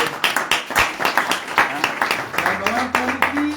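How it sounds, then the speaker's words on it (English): Audience applause at a morning spiritual gathering in Mexico, a scatter of hand claps running throughout under ongoing talk, fairly close and moderately loud. "Give claps"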